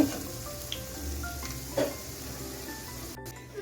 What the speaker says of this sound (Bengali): দেখুন আমার পিঠাগুলি ভাজা হয়ে গেছে, আমি হালকা গোল্ডেন করে ভেজে নিয়েছি।